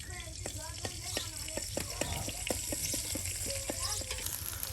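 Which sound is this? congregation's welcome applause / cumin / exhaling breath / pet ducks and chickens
cumin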